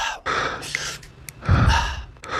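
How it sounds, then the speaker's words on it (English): A person breathes heavily: a sharp gasping inhale, then a rough exhale and another loud, close breath, with no speech. "Who's breathing like that?"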